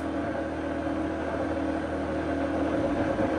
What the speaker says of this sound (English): my blender sounds like it is now struggling